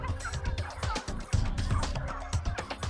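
Heritage-breed turkeys gobble repeatedly on a family-run California farm, a dense overlapping chorus of birds calling close by with no talk over them.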